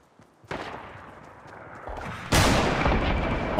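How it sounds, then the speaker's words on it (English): Hunting rifle shots in Fortnite Battle Royale: a sharp crack at the start, a softer shot later, then a loud close blast that rings out, with no talk over them. "let me get a shot off of the hunting rifle"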